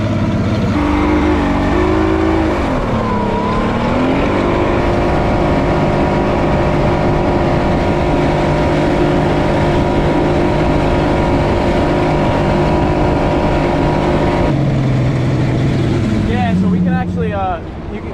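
A Glastron CV16 speedboat motor drones steadily and loudly on its first sea trial at sea, its pitch rising and falling a few times before settling lower near the end.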